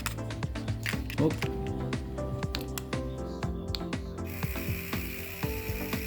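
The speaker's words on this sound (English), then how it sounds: "the little wheel pulls the plastic along, forces it down this tube here" The feed wheel of a 3D craft pen rattles as it pulls plastic filament down its tube, a rapid close ratcheting clicking that keeps going throughout, with a steady whirring hum joining toward the end.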